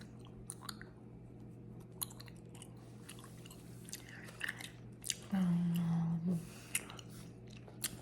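Gum is chewed right at the microphone, with soft wet clicks and smacks scattered over a steady low hum and a brief louder tone midway.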